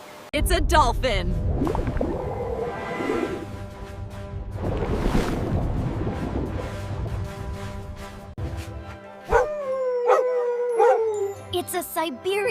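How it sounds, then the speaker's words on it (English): A Siberian husky lets out long, wavering howls followed by a run of short, sharp barks and yips, close and loud, with a steady background bed behind it. "It's a Siberian husky."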